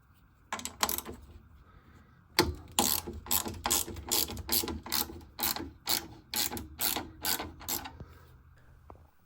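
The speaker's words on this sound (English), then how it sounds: "with a 10mm socket remove the 4 nuts" A 10mm socket ratchet works the nuts off a boiler burner, giving a close, crisp run of rapid clicking bursts, then a steady train of evenly spaced ratcheting strokes.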